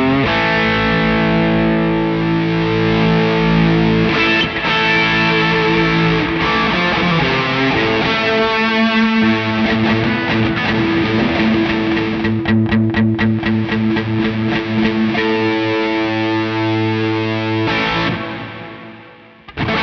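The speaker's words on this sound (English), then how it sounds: "it's kind of a crunchier overdrive. So I'm just going to use that mix to just add that layer of fuzzy reverb on top" An electric guitar plays through a crunchy overdrive blended with a fuzzy reverb layer via a Mantic Effects Pendulum mixer/switcher, sustained distorted chords and riffs ringing loudly and continuously before fading out near the end.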